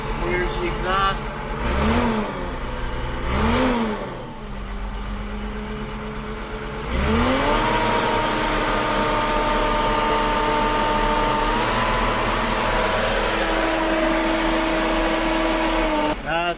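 Exhaust of a Cat 3126 diesel engine with upgraded MUI injectors, revving up and down twice before climbing to a loud, sustained high idle with a steady droning tone, close and continuous.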